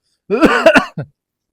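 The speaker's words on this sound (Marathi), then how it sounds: "म्हाताऱ्याला खोकला येतो ना हा. लय खोकतो" An old man clears his throat and coughs a couple of times, rough and close, followed by a short trailing cough, then silence.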